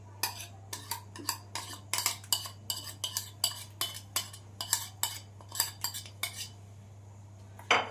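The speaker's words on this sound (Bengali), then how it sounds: "এবার সমস্ত মশলা আমি ভালো করে মিশিয়ে নেব।" A spoon scraping and clinking against a pan while stirring green chicken tikka spice paste in oil, sounding as quick, regular strokes in close, quiet surroundings over a faint steady hum.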